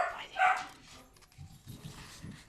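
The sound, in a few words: dog barking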